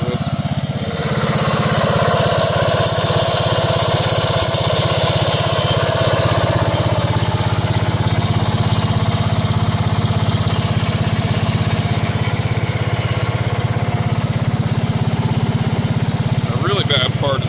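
Cub Cadet 2166 lawn tractor engine idling steadily and loudly up close, a continuous droning run with a wobbling PTO pulley, a worn hitch plate, no break in the sound.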